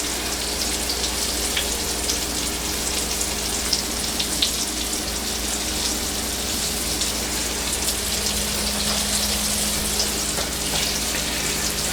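Battered green tomatoes frying in hot oil, a steady, even crackle and hiss like light rain that holds without a break throughout.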